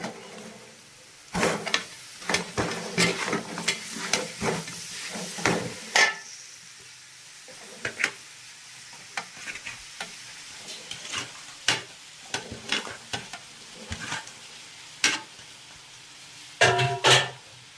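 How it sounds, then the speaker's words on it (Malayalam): Beef pieces dropped into spice masala frying in a pan for Kerala-style beef fry, with a close sizzle and repeated scraping stir strokes in bursts, pausing between, no talk. "മൂത്തതിന് ശേഷം ഈ ഇറച്ചി ഇതിനകത്തോട്ട് ഇടുക"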